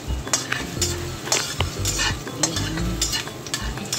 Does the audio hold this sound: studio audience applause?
no